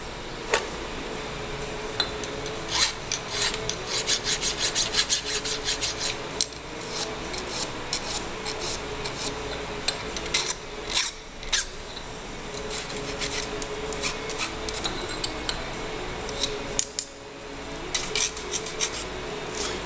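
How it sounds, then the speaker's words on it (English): Hand file deburring a metal part for a heavy-duty steady rest: steady close rasping strokes repeated in a quick rhythm for the whole stretch, with occasional small metallic clinks. "We'll deburr that."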